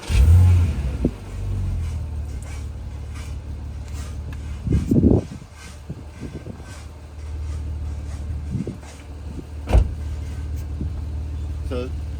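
A 2.7 litre Porsche engine cranks and fires on a battery jump starter, settling into a low steady idle rumble with a couple of brief revs, close by and fairly loud.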